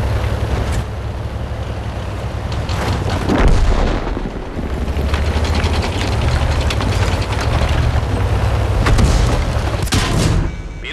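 An Italian M15/42 medium tank in World of Tanks fires heavy booming cannon shots over a constant engine rumble, with a crew voice calling out over the battle noise.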